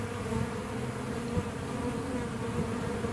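Honeybees buzz steadily around a trailer during a bee removal in Auburndale, Florida, a dense continuous hum that stays fairly close and even throughout, with no talking.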